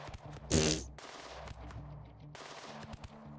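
Gunfire in the video game RimWorld, a loud close burst of rapid shots followed by scattered quieter shots over a low game background hum.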